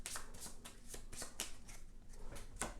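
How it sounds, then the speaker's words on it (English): A deck of cards is shuffled during a solo tabletop game of Cosmic Colonies, a series of crisp riffling bursts about every quarter second, close and fairly quiet. "he's going to now have to shuffle and start over because he has no cards left"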